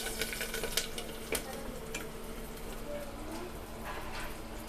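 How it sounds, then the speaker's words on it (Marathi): Green chilies are stirred into hot oil in a pan for a dal tempering, giving a soft, continuous sizzle broken by a few light scraping and clicking stir sounds. "आता इथे मी मिरची घातलेली आहे, आणि थोडंसं असं हलवून घेते."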